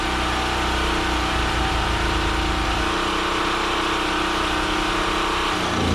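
A Champion generator, model 46539, runs steadily at close range with a constant engine drone and humming tones, uninterrupted for the whole stretch.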